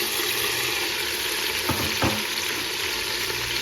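Tomatoes, ginger garlic paste and spices for chicken pulao fry in a pot, giving an even, close hiss of sizzling with a couple of brief spoon knocks near the middle and no talking.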